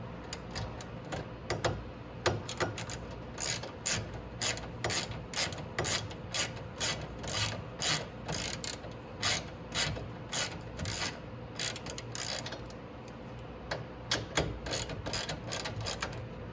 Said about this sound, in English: We'll go ahead and start tightening up our nuts.